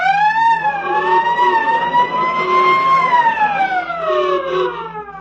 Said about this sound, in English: Fire engines came running and there was much excitement.